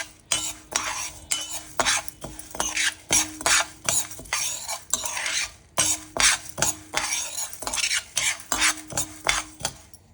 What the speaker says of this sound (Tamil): பருப்பெல்லாம் நல்லா வறுத்தாச்சு.